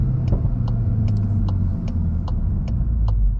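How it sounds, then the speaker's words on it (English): Exhaust pops from a VW MK8 GTI while driving: about eight short, sharp crackles spaced roughly evenly over a steady, loud engine and road rumble inside the car. "Those little pops are so funny."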